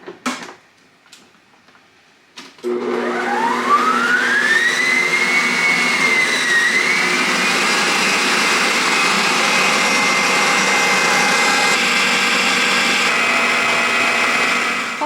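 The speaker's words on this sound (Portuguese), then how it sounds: "E a gente vai bater o açúcar até ele ficar numa consistência clara e fofinha" An electric stand mixer whirs steadily as it beats sugar until pale and fluffy for Planetary Academy moon cookies, starting after a few quiet seconds of faint clicks, then a loud continuous motor hum with a rising pitch as it speeds up.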